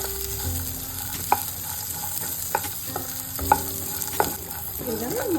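Peanuts sizzle steadily in a little oil in a pan, with a few sharp scraping clicks of a spoon stirring them at irregular intervals; no talking.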